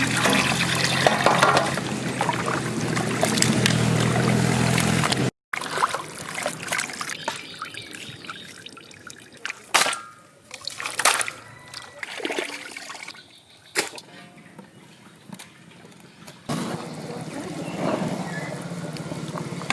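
Meat for a village-style Bengali mutton curry rinsed in water, with sloshing, trickling and splashing that is steady at first, then broken into uneven bursts after a short gap, close and fairly loud.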